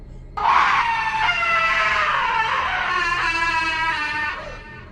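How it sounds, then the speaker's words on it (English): A long, piercing human scream heard outdoors, loud and close, rising sharply and wavering for several seconds before trailing off, alone with no talk. "a second scream was let loose with even more force than the first"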